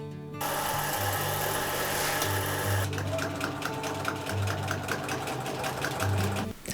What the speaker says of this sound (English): Today I'm sewing this adorable cottage dress with Natursaga's dark and checkered fabric.